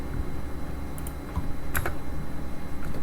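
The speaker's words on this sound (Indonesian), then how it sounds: "Kita ketik di sini" Switch configuration commands typed on a computer keyboard, heard as a few sparse, close key clicks with short pauses between them over a faint steady hum.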